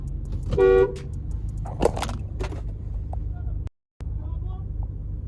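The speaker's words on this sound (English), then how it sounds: "he gets upset when the driver behind him starts honking to urge him to move" A car horn blasts once in a parking lot, loud and close, with the driver behind honking to hurry someone along. A steady traffic rumble and voices continue around it.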